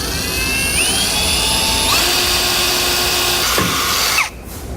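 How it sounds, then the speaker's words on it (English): A small drill bit boring a pilot hole for a mounting bolt while a Roadmaster rear anti-sway bar is fitted on a 2015 Thor Challenger, a loud, close, high-pitched whine that shifts pitch under load and then stops abruptly. "So I'm just starting with a small drill bit."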